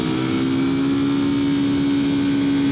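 A Yamaha R3 motorcycle fitted with a slip-on exhaust drones at a steady, even engine note while riding, close and constant with no talk.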